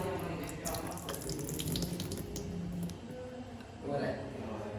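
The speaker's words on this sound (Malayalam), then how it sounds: "ഇനിയിപ്പോൾ ഇതാ ഇതിനൊന്ന് കഴുകി എടുക്കണം കേട്ടോ." Tap water runs steadily into a kitchen sink while chopped onions are rinsed, a continuous close splashing rush that swells briefly near the end.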